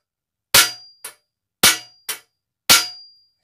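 A hammer strikes a bicycle crank arm in sharp metallic blows, five cracks in quick pairs, each with a short ringing tail, close and loud.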